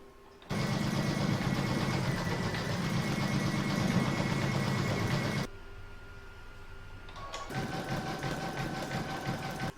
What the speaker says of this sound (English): I'm now going to put this back into my machine and stitch round number 7, and that's going to do all the satin stitch